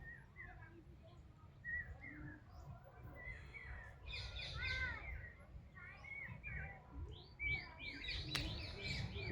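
Parrots feeding on dates on a farm give scattered chirps and squawks at moderate distance. The calls come in bursts and grow busier toward the end over a low rustling background, with a brief murmur of talk.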